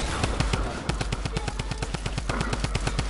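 Rapid automatic gunfire in a video game runs as a steady, evenly spaced stream of sharp shots, loud and close, throughout the short stretch.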